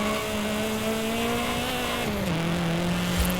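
Car engine in a driving video game drifting through desert sand dunes, a steady loud droning whine that holds a constant pitch, then drops lower near the end, with a brief tire noise at the close.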